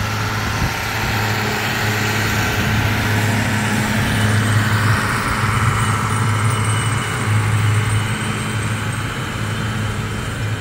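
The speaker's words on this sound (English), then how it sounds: "that baler behind him is picking up the hay" A tractor pulling a hay baler across a field on a sheep farm, driving over a hay row while the baler picks up and rolls the hay, gives a steady, loud engine drone with mechanical rumble throughout, and no voices.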